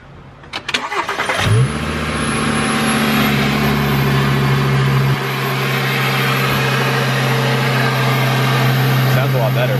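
A VW car engine fitted with a new air intake cranks and catches, then settles into a steady, close-up idle that runs on without interruption.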